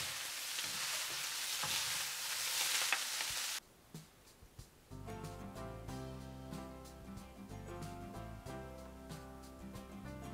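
Mongolian beef noodles with scallion and coriander sizzle loudly in a hot pan for a few seconds, then cut off abruptly as other sound takes over.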